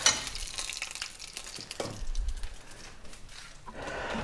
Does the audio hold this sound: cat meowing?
no